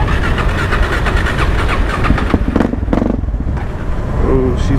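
A cold supermoto motorcycle engine being started with the choke on, a rough sputtering crank that catches into an uneven idle, with a voice talking over it.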